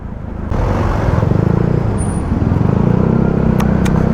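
Road traffic at a busy intersection in San Pascual, where drainage canal work is under way: a loud, steady engine rumble with passing vehicles, idling motors throbbing, no voices.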